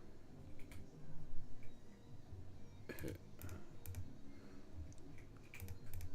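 Quiet, close clicks from a computer keyboard in a PC stream setup, with a few bunches of keystrokes spread over a low background and speech alongside.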